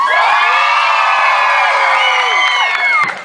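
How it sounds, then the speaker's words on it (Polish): A large outdoor crowd at the opening of a youth hiking rally in Samsonów claps, cheers and shrieks in high whoops, loud and close throughout. "Brawa, oklaski, krzyki, piski!"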